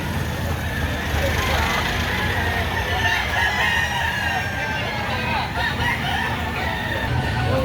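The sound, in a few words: rooster crowing at a chicken market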